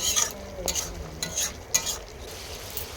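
Masala with potato and coconut milk for a prawn curry sizzles softly in the pan, with brief scraping stirs of a spoon breaking through a steady low frying hiss.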